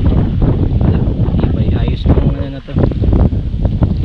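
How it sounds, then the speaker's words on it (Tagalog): Strong wind at a campsite on a family farm in Nasugbu, Batangas roars and buffets the microphone in a loud, continuous rush, with a person talking underneath the gusts. "Ewan ko lang sa ibang lugar kung meron pa mas malakas na hangin dito."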